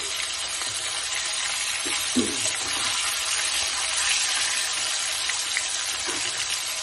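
Pieces of rohu fish fry lightly in hot oil, producing a continuous, dense sizzle and hiss, close and steady, with a few faint stirring knocks.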